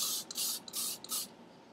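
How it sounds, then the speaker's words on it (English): Hairspray hisses from an aerosol can onto flat-iron curled hair in three quick bursts of about a third of a second each, close and fairly quiet, with nothing else heard. "You can spray everything down with hairspray real quick."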